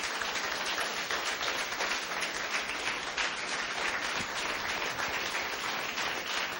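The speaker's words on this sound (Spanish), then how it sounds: "Aplauda al Señor y apláudalo fuerte" A church congregation applauds loudly and continuously, a dense wash of many hands clapping at once that stays at an even, strong level from start to finish.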